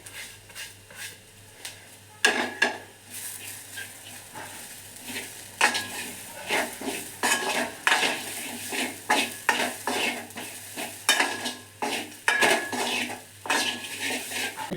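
A spoon stirs clams dusted with turmeric powder in a pan for Mangalorean clam sukka, giving repeated close metallic scrapes and clinks in an uneven rhythm over a faint background, with no talking.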